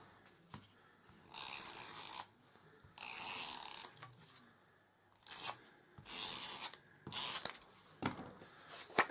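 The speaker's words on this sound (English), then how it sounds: "I'm going to glue this on with a glue pen" A glue tape pen rolled across papercraft card in several short scratchy passes, each a second or so long with quiet gaps between, close and fairly soft.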